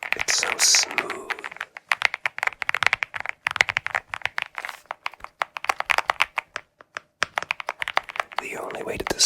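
Steady typing on a thocky mechanical keyboard, soft rounded keystrokes in quick irregular bursts, close up, with whispering at the start and end.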